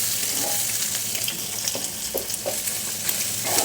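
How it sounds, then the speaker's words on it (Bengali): Egg frying and being stirred with onion and chili in a pan, a constant close sizzle broken by several scraping stir strokes, with no talking. "এখন পেঁয়াজ মরিচের সঙ্গে আমি ডিমটাকে মিশিয়ে দিলাম"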